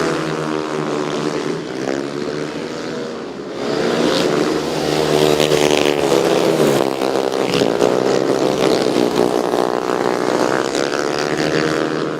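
Speedway motorcycles race around a dirt oval, their engines blaring loud and continuous. The pitch rises and falls as the bikes work through the laps, with the pack growing louder partway through.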